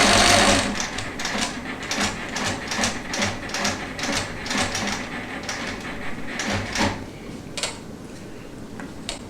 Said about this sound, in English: Stitching.